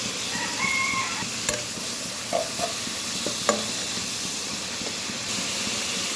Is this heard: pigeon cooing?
no